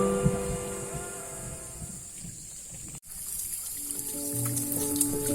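Spring water trickles steadily from a bamboo spout beside the Lengkasa river in Ta'a tribal country, a faint continuous patter with a brief break midway and soft ambient tones around it.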